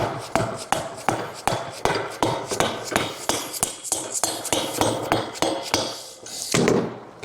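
A hammer strikes repeatedly to drive wheel spacers into a motorcycle wheel on an XLCH chopper, giving a steady series of sharp metallic clanks about two or three per second, close and loud, with a brief pause near the end.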